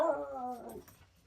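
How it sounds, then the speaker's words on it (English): Dogs whine and yip in a short, high, falling cry close by, fading into quiet. "Dogs are just being barky."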